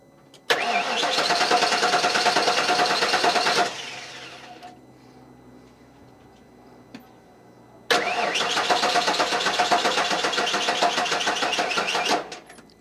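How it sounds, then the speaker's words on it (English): A car engine cranks and catches, runs at a loud steady idle for a few seconds, cuts off into quiet, then is started again and idles loudly once more before shutting off, with no talk over it. "start the car at this point and make sure it starts right up"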